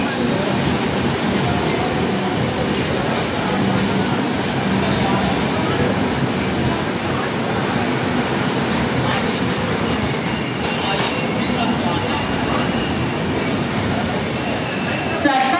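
A high-speed Rajdhani Express rushes through an Indian railway platform, a loud, continuous broadband roar of wheels and carriages sustained for the whole stretch, with faint voices and platform announcements mixed underneath.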